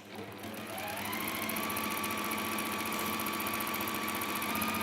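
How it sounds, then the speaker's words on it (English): A sewing machine runs steadily while stitching a hexagon patchwork cushion, a continuous fast mechanical whir with rhythmic needle chatter that starts after a brief pause and holds loud and close throughout. "just sew off the end and then come in and start again"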